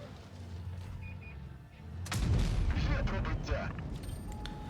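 A tank gun fires in the video game World of Tanks Blitz, a single heavy boom that swells out of engine rumble midway and decays into a rough, rolling roar with scattered crackle.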